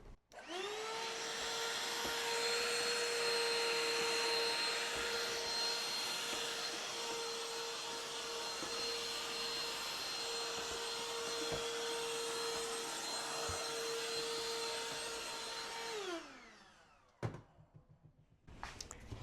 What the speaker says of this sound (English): let me get the dust buster to get that out